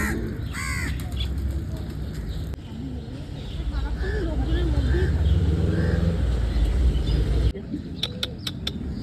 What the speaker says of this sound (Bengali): কাকাটা কি কাকা কাকা কাকা করে আসছে